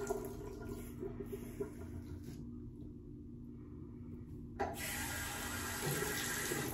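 Tap water runs steadily as hands are washed at a sink, a close, continuous splashing rush that dips briefly midway and then returns at full strength.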